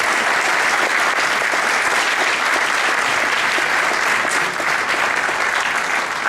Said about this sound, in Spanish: Un aplauso fuerte para ellos, por favor.